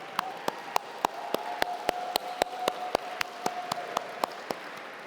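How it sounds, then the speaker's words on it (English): Audience applause for the trustees at a centennial gala: dense, steady clapping from a crowd, with sharp individual claps punctuating it at a regular rhythm and a faint sustained tone running underneath. "Let's have a round of applause to thank our trustees."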